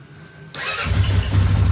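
A Honda Rubicon 500 ATV engine cranks and catches about half a second in, then settles into a steady, rumbling idle close to the microphone, with no voices.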